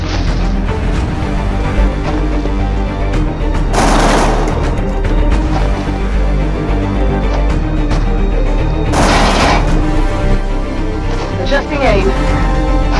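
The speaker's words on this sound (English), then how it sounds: "Direct heavy fire in this zone!" Heavy gunfire in the XCOM: Enemy Within video game on Android, a dense, loud, continuous barrage of rapid shots with two bigger bursts standing out.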